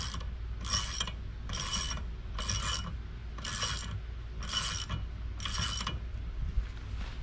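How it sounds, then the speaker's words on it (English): Ratchet socket wrench tightening the propeller nut on a Mercury V8 four-stroke outboard, heard as six evenly spaced bursts of rapid clicking ratchet strokes, close and fairly loud over a low steady background hum. "Take your prop nut, thread it on, switch your socket right back to drive."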